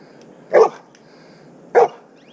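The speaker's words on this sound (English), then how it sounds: "Could you come and get your dog? Because he's barking at me." A dog on a trail near Austin, Texas, barks at a passing cyclist: two sharp, fairly close barks about a second apart over a quiet background.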